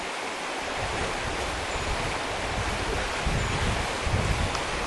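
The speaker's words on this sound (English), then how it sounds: "Slight touch of wind on, but that's not too bad." Steady wind rushing by a river on a warm day in the Yorkshire Dales, a continuous broadband roar with gusts buffeting the microphone and flowing water beneath, loud and unbroken throughout.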